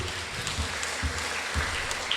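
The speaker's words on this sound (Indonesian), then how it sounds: "Tepuk tangannya dulu." Audience applause at a Muhammadiyah and Aisyiyah regional assembly in Pamekasan, a steady, moderately loud patter of clapping from a large crowd with a few low thumps.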